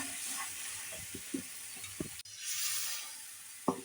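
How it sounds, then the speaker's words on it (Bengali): Ground mustard and cumin paste goes into a pan of tomatoes, and a low sizzle with a few stirring taps swells midway into a brighter, hissing fry. "এবার দিয়ে দিচ্ছি সেই সর্ষে আর জিরে যে মিক্সিতে দিয়ে করে রেখেছি সেইটা দিচ্ছি মশলাটা।"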